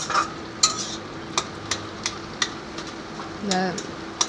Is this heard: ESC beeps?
no